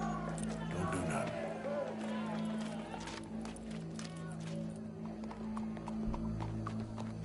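Horse hooves in Red Dead Redemption 2 on PS4, a quick clip-clop beat over a low humming bed, with a voice speaking faintly among the game sounds.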